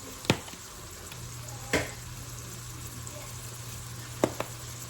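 Ground meat for sloppy joes frying in a pan, a steady low sizzle with a few sharp clinks of a utensil against the pan, no talk.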